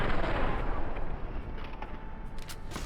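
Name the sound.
plasma grenade explosion in video game Fallout New Vegas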